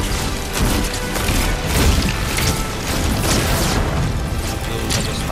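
Bombing run in Fortnite sets off a dense, continuous barrage of booming explosions and crashing debris, loud and sustained across the whole stretch with no pauses.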